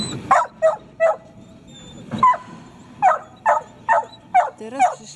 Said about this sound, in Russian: To jest piesek. Katahula.